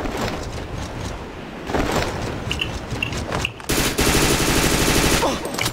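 SMG gunfire in a video game rattles in rapid bursts, loud and nearly continuous, with heavier volleys toward the end.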